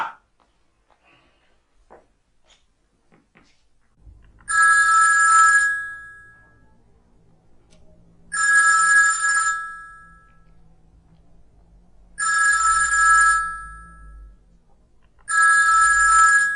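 A telephone bell rings in four loud, evenly spaced bursts over about twelve seconds in an indoor scene from an Ethiopian film, with near silence and faint low rumble between rings.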